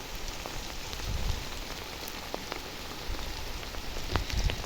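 Rain patters steadily on nearby surfaces, a soft continuous hiss broken by scattered louder drops and a few low thumps.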